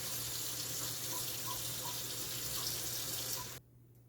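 Sea moss (Irish moss) getting a final rinse under a running tap, a steady broadband rush of water with faint splashes that stops abruptly near the end.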